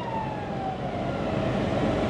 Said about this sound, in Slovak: Pustíme záchranku.